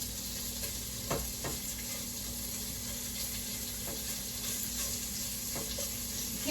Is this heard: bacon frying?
yes